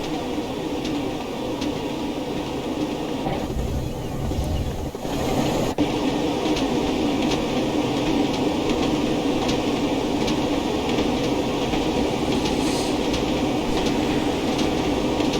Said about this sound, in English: the sound of the train rolling without